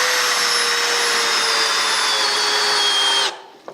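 A power drill drives a screw into a lightweight workbench panel, a loud steady whine held for about three seconds before it stops abruptly, followed by a brief faint knock.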